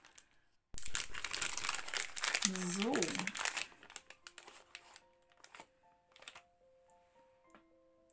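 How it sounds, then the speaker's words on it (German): A diamond painting pen pulled out of a plastic bag gives a close, loud crinkling rustle for about three seconds, then a few lighter handling clicks and taps, with a brief spoken word. "Ich hole ihn jetzt mal eben aus der Tüte raus und dann zeige ich ihn euch genauer."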